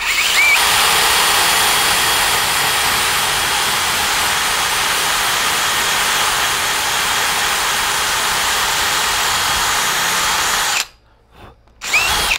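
Power drill fitted with a rotary file cuts a slot into a wooden acoustic guitar headstock, a loud, steady high whine held for about ten seconds before it stops abruptly and sputters briefly at the end.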